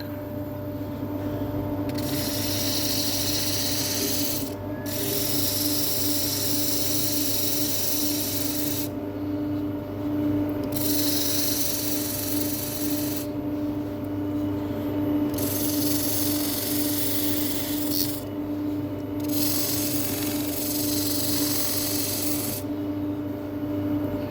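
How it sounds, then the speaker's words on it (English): A steady abrasive whir of a small sanding disc on a rotary tool against apple wood while carving a spoon, running continuously with periodic shifts in pitch and texture as the pressure changes. "what can I do with a little sanding disc on here?"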